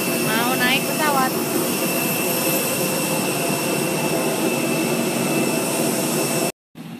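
Loud, steady whine and roar of an airplane jet engine heard near the aircraft before boarding, with a brief rising chirp early on and a short cut near the end.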